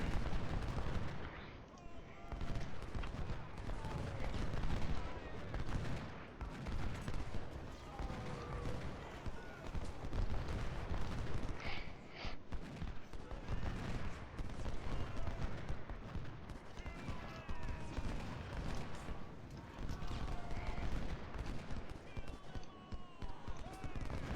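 Massed soldiers' musket fire crackles continuously across a Civil War battlefield in Ultimate General: Civil War, dense overlapping volleys with occasional heavier booms while someone talks over it.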